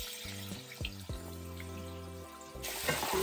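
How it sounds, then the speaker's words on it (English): Lemon juice pours into a hot frying pan while pork schnitzel cooks, a short liquid pour followed by a louder crackling sizzle at the end, with no voices. "So I'm just gonna pour the lemon juice on that now."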